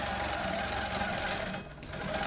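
A longarm quilting machine driven by a ProStitcher computer and fitted with a glide foot stitches steadily edge to edge on a custom quilt. Its motor hum and needle chatter are close and continuous, with a brief dip near the end.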